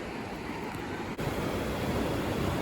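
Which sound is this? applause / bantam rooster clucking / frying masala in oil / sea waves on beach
sea waves on beach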